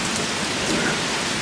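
Heavy rain pours steadily during a July storm in New Mexico, a dense, loud hiss of drops hitting surfaces with no letup.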